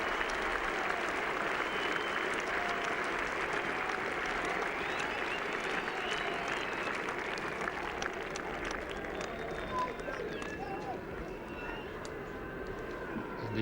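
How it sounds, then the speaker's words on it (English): A Yorkshire cricket crowd at Headingley during an England v Australia Test match cheers and applauds steadily and loudly, a broad wash of clapping and voices sustained throughout. "To a great cheer from this Yorkshire crowd"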